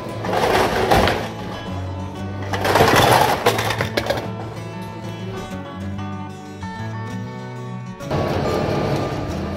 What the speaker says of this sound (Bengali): এবারে দেওয়া হচ্ছে ক্যারামেল বা গলানো চিনি দিয়ে খুব ভালো করে আবার মেশিনের সাহায্যে মিশিয়ে নেওয়া হচ্ছে।